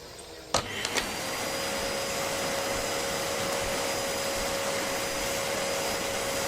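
A household vacuum cleaner runs loud and close with a steady, unbroken whining roar, preceded by a couple of brief knocks as it starts up.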